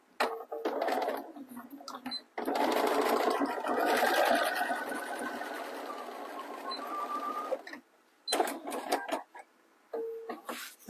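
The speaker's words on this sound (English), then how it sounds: "Take it to the machine and just sew." A sewing machine stitches fabric for a small swim bag in close, rattling bursts, with one long run in the middle and shorter starts and stops around it, and quiet pauses between.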